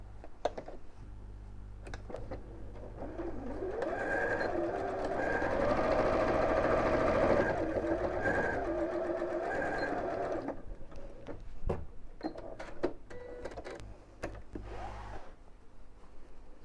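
A sewing machine runs steadily for several seconds, stitching straight across the corners of a simple fabric box bag, then stops, followed by soft handling clicks and rustles.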